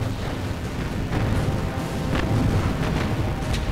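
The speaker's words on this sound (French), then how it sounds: "Les deux navires de guerre s'engagent dans un échange de tirs vigoureux." Two warships trading heavy naval artillery fire in a World War II battle off Guadalcanal, one of them the USS Washington, heard as a loud, dense rumble of overlapping booms and blasts with no clear gaps.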